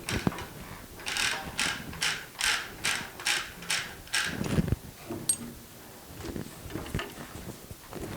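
Loosening and removing the blade on a Grizzly 14 in Extreme Series band saw: a run of about eight quick ratcheting clicks, close and fairly loud, followed by scattered metallic clunks and taps as the blade comes free.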